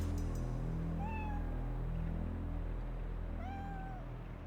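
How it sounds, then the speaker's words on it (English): A rescued kitten gives two clear, thin meows a couple of seconds apart over a steady low hum of background noise, with no talking. "she's found another kitten"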